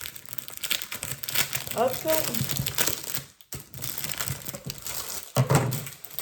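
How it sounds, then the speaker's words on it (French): Crinkling, crumpling plastic packaging is peeled off a 30 cm ruler close up, in a few rustling bursts with a short pause partway through, while someone talks over it. "On va la déballer ensemble. Comme ça, vous verrez sans le plastique."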